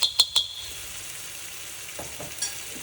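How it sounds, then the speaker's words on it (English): Green chili paste goes into sizzling paneer bhurji in a pan: three quick clinks of a spoon open, then a faint steady sizzle with a couple of soft stirring scrapes, no voices. "what I'm going to do is add 1 teaspoon green chili paste."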